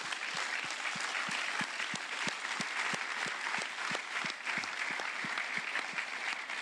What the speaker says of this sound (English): I ask you to pay one big applause to these people who are sitting here.